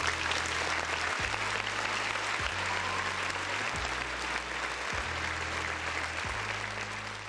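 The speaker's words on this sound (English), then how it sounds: "Round of applause to my boy Barry." Applause for a podcast co-host plays as a steady, dense clatter of clapping, with a repeating low electronic pulse running underneath at regular intervals, suggesting a looped or added crowd-clapping sound rather than a live room.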